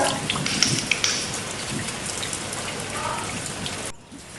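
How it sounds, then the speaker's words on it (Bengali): Steady rain pattering down during the first Kalbaishakhi (nor'wester) storm of the year, a dense, even hiss of drops on surfaces that drops away abruptly near the end. "এই বছরের প্রথম কালবৈশাখী ইয়ে ইয়ে বৃষ্টি বৃষ্টি পড়ছে"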